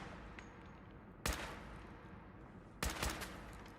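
Two sharp gunshots ring out about a second and a half apart in a modded Fallout 4 playthrough, each a loud, brief blast with a short tail over a quiet background.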